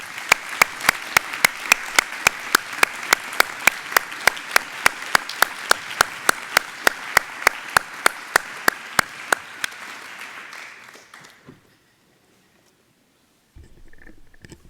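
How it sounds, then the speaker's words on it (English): Steady, rhythmic clapping sounds close by for about ten seconds, then fades out, leaving near silence with a faint rumble at the end. "may I ask you a very warm applause for His Eminence"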